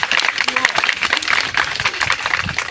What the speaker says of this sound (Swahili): Pigia makofi mengi sana